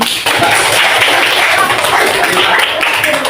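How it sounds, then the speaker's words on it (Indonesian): A classroom of students claps together in a dense, steady burst of applause that holds loud and even for several seconds. "Oke, tepuk tangan dulu."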